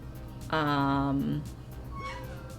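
A cat gives a single clear, drawn-out meow up close, followed by a quieter, shorter mew.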